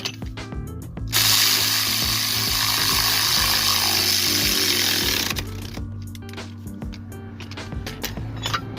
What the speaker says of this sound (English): I'm gonna have to torque it to 74 foot-pounds